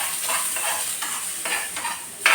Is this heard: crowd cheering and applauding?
no